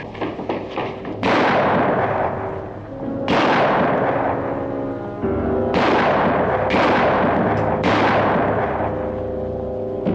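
Gunshots ring out in a Western shootout as escaping prisoners exchange fire, several loud separate blasts spaced a second or two apart, each with a long echoing decay, with no talk over them.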